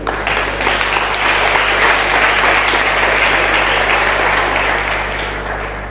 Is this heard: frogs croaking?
no